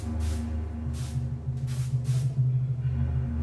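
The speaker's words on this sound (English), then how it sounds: "They sprayed Grandfather's room and his body with chlorine to destroy the Ebola germs." Chlorine disinfectant sprayed in a room in repeated short hissing bursts, steady and close, over a continuous low hum.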